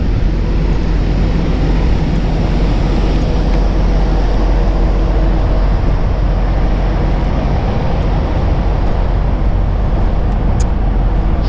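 A parked truck with two rear axles idles steadily in the cold at Dryden, Ontario, giving a continuous loud, low rumble with no talking.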